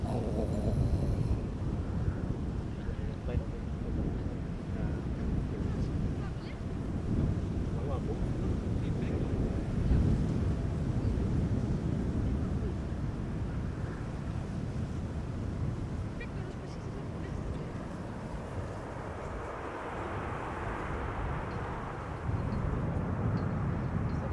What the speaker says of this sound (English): the next airplane to Kaagbaan is a Transavia 737 arriving from Meon